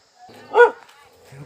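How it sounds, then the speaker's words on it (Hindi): A dog in a mountain village in Uttarakhand gives one loud, close bark midway, with softer yips and a faint voice around it. "कुत्ता भी भौंक रहा है"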